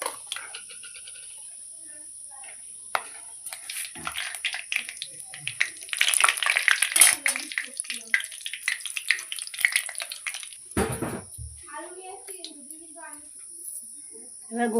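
Whole bay leaf, garam masala and dried chilies sizzle and crackle in hot oil, a steady close fizz that swells loudly midway with scattered pops, with a voice talking over it.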